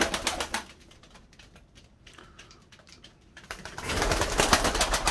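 Sivas and Kayseri pigeons in a roof loft, with soft rapid clicking and fluttering and some low cooing, quieter in the middle and busier at the start and end, with no talking.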